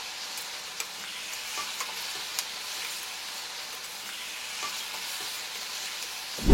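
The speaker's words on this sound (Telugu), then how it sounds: "మనం వేసుకున్న నండ్రకాయలు అనేది బాగా వేపు అయిపోయినాయి అనమాట" Crabs coated in masala fry in a pan for a Telugu-style crab curry, giving a steady close hiss with occasional soft stirring clicks and a louder clatter at the very end, no talk.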